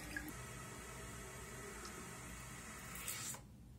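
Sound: water refilling toilet cistern through new fill valve

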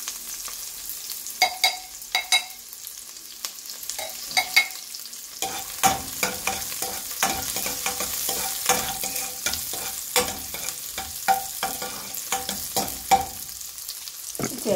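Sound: small onions frying in hot oil

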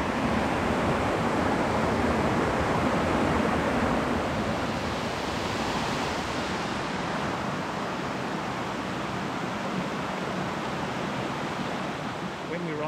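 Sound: waterfall

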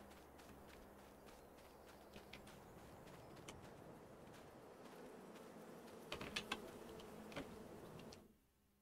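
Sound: bees buzzing in the video game Farm Simulator 22

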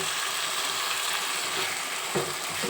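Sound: chicken and yogurt sizzling in biryani masala

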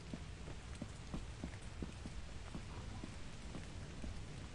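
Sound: rain in the video game Lethal Company

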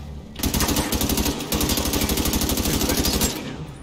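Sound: gunfire in the video game The Division 2

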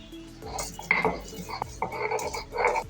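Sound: grinding nuts into paste by hand

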